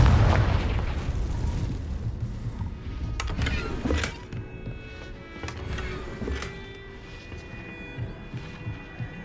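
A Confringo fire spell bursts in the Hogwarts Legacy video game with a heavy rumbling boom at first, followed by several sharper crackling hits and ringing game effects that fade to a quieter hum, with no voices.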